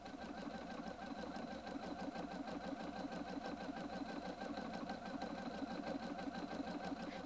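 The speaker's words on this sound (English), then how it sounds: "Select Stitch 17 and stitch on the second line parallel with the first decorative stitch" A Husqvarna Viking Designer II sewing machine running a decorative stitch, a steady, fast mechanical whir with an even rapid needle rhythm, continuous and close throughout, no voices.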